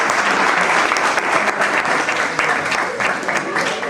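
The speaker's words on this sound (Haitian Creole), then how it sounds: "Donc je vais demander nous pour applaudir encore." An audience at a Sunday community workshop applauds loudly and steadily, dense clapping from many hands filling the room for several seconds without a break.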